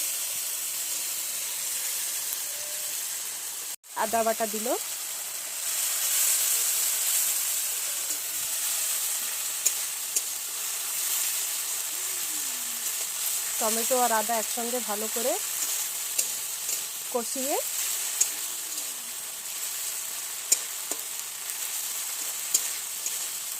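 Tomato and ginger fry for a potato curry with a constant hissing sizzle, broken by a sharp clack early on and a few stirring scrapes, while a voice speaks briefly over it.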